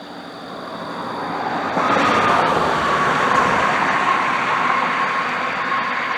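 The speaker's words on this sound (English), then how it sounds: "At least before another car passes by." A car passes by on a road, its rushing roadway noise building and swelling to a loud, close peak, then holding as a broad wash that eases away slowly.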